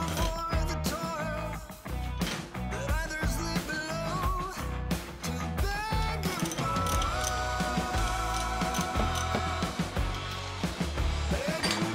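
A ratchet wrench loosening bolts on engine shims, with quick bursts of rapid metallic clicking, short pauses and repeated strokes, close and crisp throughout.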